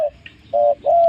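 Soft coos of a spotted dove, a few short mellow hoots in quick succession, close and clear against a quiet background.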